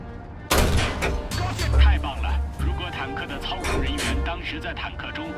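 A tank cannon fires in War Thunder with a sharp, loud blast followed by rumbling battlefield noise and further distant booms, while a voice narrates over it.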